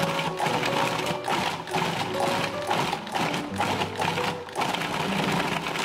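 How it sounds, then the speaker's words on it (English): A Cuisinart food processor pulses to knead homemade pasta dough, a close, rough motor whir broken into a run of short pulses separated by brief pauses, with no one talking. "Place one of the balls back into the food processor and continue to pulse,"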